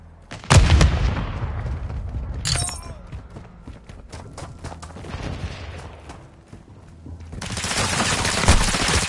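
Call of Duty gunfire: a loud burst of shots rings out, followed by scattered cracks and thuds, then a sustained roar of automatic fire near the end, with no talking.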